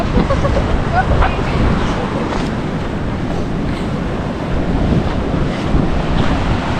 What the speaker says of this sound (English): You can probably tell it's a bit windy, but this is pretty cool, just up on the beach here with all these rocks.